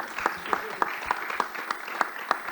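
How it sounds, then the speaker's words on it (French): An audience at an awards ceremony claps in a steady rhythm, one beat about every third of a second, while someone speaks over it before a group photo. "continue d'applaudir, hein, il ne faut pas s'arrêter"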